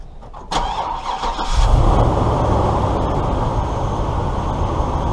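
An RV engine cranks and fires at about half a second, then settles into a loud, steady rumbling idle that continues for several seconds with no talking.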